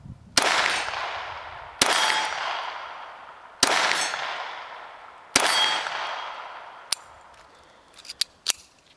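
Four loud, sharp shots from a Jennings J-22 .22 pistol fired at a target, evenly spaced about two seconds apart, each with a short ringing decay, followed by a few fainter clicks and clanks.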